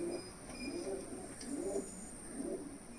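Two pigeons settled on a rooftop loft, among them a red Chinese hen with white eyes, coo in a soft, repeated rhythm at close range, with three low rolling coos over steady background hiss and no talk.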